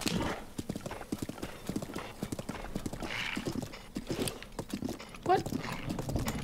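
Steady clip-clopping horse hooves trot at a brisk, even rhythm in The Legend of Zelda: Breath of the Wild, with a brief horse whinny partway through.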